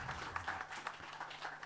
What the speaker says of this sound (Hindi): एक बार तालियां रतूड़ी जी के लिए।